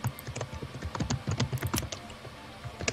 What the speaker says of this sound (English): I think this is like my third or fourth time typing in my account details to try again.